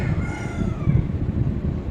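A hen clucks among her chicks, with other fowl nearby, a steady run of close, fairly loud low clucks and calls with no talking.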